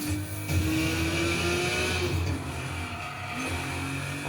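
A car engine in the Need for Speed racing game revs loudly and continuously, its pitch climbing and shifting with gear changes, while tires squeal and skid briefly along the way.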